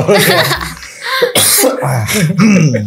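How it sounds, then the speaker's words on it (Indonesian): Someone coughs and clears their throat a few times in an indoor conversation, close and loud, with voices talking around and over it. "Batuk dulu."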